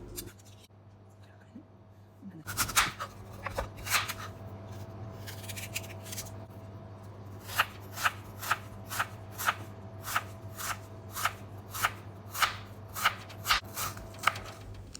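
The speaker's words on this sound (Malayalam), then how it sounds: "ഇതുപോലെ ചെറിയ ചെറിയ പീസായി കട്ട് ചെയ്തെടുക്കണം." Peeled green apple being cut into small pieces with a knife; after a few scattered cuts, a steady run of crisp, evenly spaced chops follows, close and fairly loud over a low background hum.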